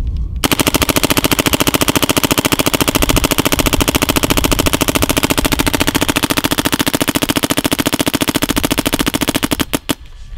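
A Dye M3s paintball marker firing a long, fast, even stream of sharp pops for about ten seconds, loud and close outdoors, ending in a few last separate shots.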